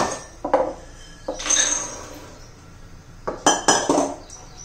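Two bowls of cleaned peanuts are poured into a heating kadhai for jaggery peanut laddoos, making a few bursts of rattling, clinking clatter that start and stop, close and fairly loud with quiet gaps between.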